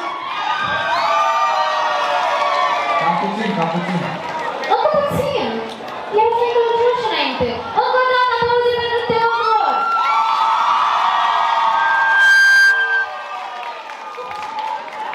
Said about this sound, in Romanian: Deci să vedem cum vă aplaudați între voi.